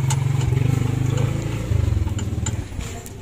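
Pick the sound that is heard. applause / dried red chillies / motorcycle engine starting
motorcycle engine starting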